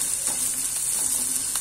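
Finely chopped onion and garlic frying in a pan, a steady close sizzle with faint stirring clicks running evenly throughout.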